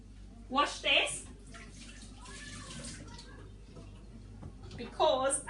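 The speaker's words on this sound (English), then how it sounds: "I am going to really, really quick wash this" Kitchen tap water runs in a soft, steady rush while something is quickly rinsed during green fish curry preparation, with a voice speaking briefly before and after.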